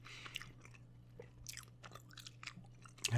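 Gum is chewed close to the mouth in soft ASMR style, with wet, irregular smacks and clicks over a low steady hum.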